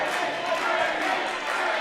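A pro wrestling crowd roars and cheers in a dense, sustained wash of voices while a wrestler fights to get back into the match, loud and close throughout.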